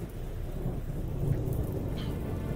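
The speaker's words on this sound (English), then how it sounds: "The rain it's just pouring sheets." Heavy rain pours steadily with a low rumble of thunder beneath it, a continuous wash of downpour during a storm with no voices.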